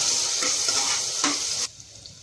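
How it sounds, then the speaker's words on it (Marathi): Chopped onion with cumin sizzles and is stirred in a hot pan for crab rice, a steady close frying hiss with scraping strokes that stops abruptly near the end. "आणि कांदा चांगला परतून घ्या"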